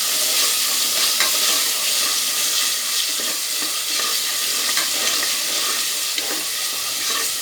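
Two large chopped tomatoes fry in a pan for spicy mutton curry, a continuous loud close sizzle with repeated scraping stirs and no talking.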